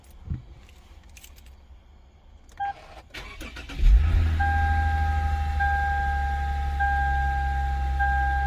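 A Lexus IS350 cranks and its engine catches after a spark plug change, then settles into a steady close idle with a faint high chime tone sounding over it.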